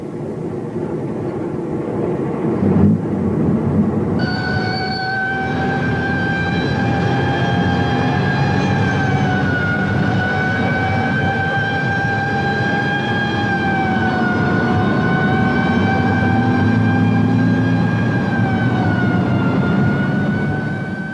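Police sirens wail continuously, loud and steady with rising and falling tones, over a low rumble of traffic; a brief thump sounds early on before the sirens begin.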